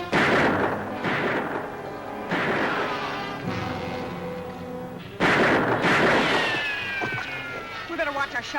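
Gunfire from a shootout in an Old West setting, sharp loud reports and crashes bursting over a busy mix with voices and music running underneath.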